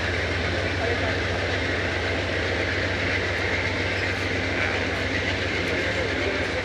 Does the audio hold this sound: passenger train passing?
yes